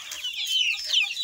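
A rooster with weak, wobbly legs clucks in a short, close series of raspy, rising calls.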